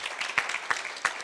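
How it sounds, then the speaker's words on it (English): Brief applause from an audience at a monetary policy event, a moderate patter of overlapping claps with a few sharper individual hits standing out. "A big round of applause for everyone."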